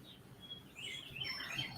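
Birds chirp and sing outdoors among trees, with bright, high tweets growing fuller in the second half and no one talking.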